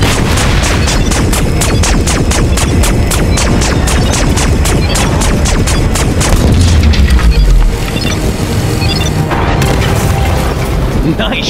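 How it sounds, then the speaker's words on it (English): Rapid, evenly spaced gunfire rattles through a LEGO Marvel Superheroes 2 battle, loud and continuous, then gives way to deep rumbling explosion booms. "A few more shots should do it."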